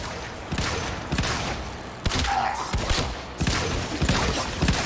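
Pistols fire in a video game in rapid clusters of sharp, punchy shots, several bursts spaced about a second apart, loud and close.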